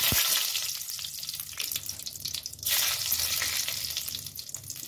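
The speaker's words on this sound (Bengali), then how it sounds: "ফোড়নে আমি ব্যবহার করছি শুকনো লঙ্কা" Dried red chilli, bay leaf and black cumin crackle and sizzle in hot oil for a vegetarian ghonto, a loud close frying hiss with bursts of spattering throughout.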